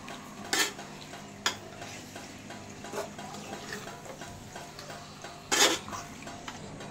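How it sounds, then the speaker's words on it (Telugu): Marinated chicken stirred in a metal pot, a spoon scraping and clinking against the sides with a few sharp louder knocks amid steady soft scraping, close up with no talking. "అలా యాడ్ చేసుకున్న తర్వాత బాగా అవన్నీ కలిసేలాగా బాగా తిప్పుకోవాలండి"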